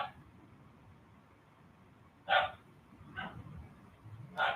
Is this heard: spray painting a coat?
no